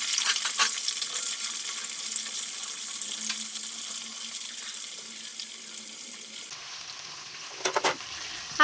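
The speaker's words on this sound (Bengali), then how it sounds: "ওই কড়াইতেই ওই তেলের মধ্যেই আমি পেঁয়াজ এবং কেটে রাখা ক্যাপসিকাম ছেড়ে দেবো" Onion and capsicum sizzle in hot oil in a wok left over from frying chicken for chili chicken, a steady crackling hiss with stirring scrapes, ending in a few louder clatters and no talk.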